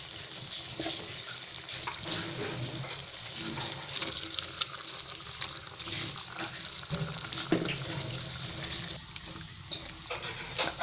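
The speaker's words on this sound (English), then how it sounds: "Add 2 cups of water." Water pours steadily into a pot of spicy beef curry with marinated beef, a continuous close splashing gush with a few small knocks and clinks of the pot.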